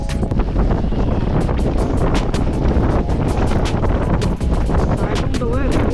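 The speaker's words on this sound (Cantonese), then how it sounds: "大風到" Strong wind gusts at a sandy campsite in Hong Kong, roaring heavily across the microphone in continuous loud buffeting, with flapping and rustling bursts throughout.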